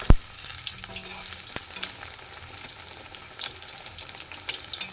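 Pumpkin fritters bubble and sizzle in hot oil as they are turned, with a few sharp clicks of the spatula against the pan over a steady frying hiss, close and with no voices.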